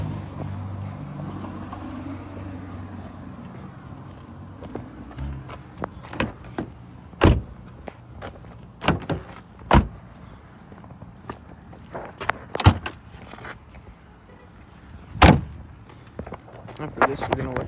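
Ambulance doors are opened and closed during a vehicle circle check, giving a series of sharp, irregular clunks and latch clicks over a background of low talk.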